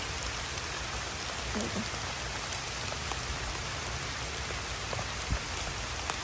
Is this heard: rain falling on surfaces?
yes